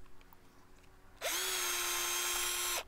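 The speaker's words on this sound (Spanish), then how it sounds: "Necesitamos también un taladro" A power drill spins up suddenly and whirs for about a second and a half at close range, boring into a plastic jar, then stops abruptly.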